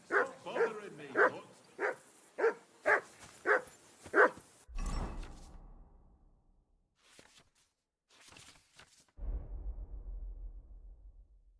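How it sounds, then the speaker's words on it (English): A dog in the video game Kingdom Come: Deliverance 2 barks seven times in a steady, close, loud run. Sparse rustling and quiet sounds follow before a louder ambient swell returns. "that barking's driving me nuts"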